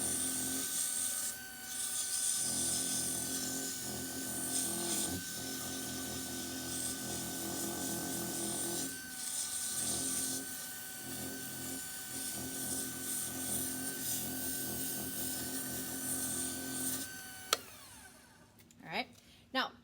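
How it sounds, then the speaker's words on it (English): Sandpaper rubbing against a wooden pen blank spinning on a lathe, a continuous close, rough scraping hiss that pulses slightly, with the motor hum underneath before winding down near the end. "I was sanding as it was rotating"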